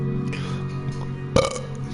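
A single loud, close burp swells out over steady low background hum, preceded by faint murmuring in a Minecraft building session.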